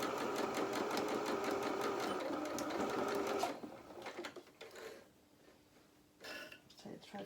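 Sewing machine stitching a hem on a doll shirt at a 2.2 stitch length, running steadily and close for about three seconds, then short stop-start bursts with handling noise.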